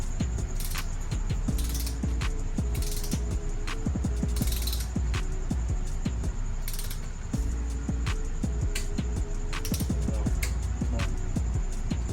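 A torque wrench tightening cylinder head bolts during a 5.3 LS engine swap into a Box Chevy Caprice, giving repeated close ratcheting clicks in short bursts over a steady background hum.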